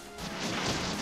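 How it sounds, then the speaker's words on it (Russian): Statues being smashed in the Bot Vice video game, a single loud crashing impact with a swooshing burst of debris, close and dominant for about a second. "мне надо, ребята, вот эти вот статуи разбивать."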